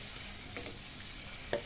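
Cauliflower stirred as it fries in a pan, a soft continuous sizzle with a few quick scraping clicks of the spatula, close and fairly quiet.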